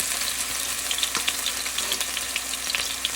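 Boneless basa fish fillets sear in a hot pan, a close, steady crackling sizzle with faint spatters and no talking.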